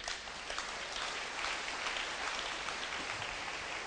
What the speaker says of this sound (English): Give Jesus a clap for that.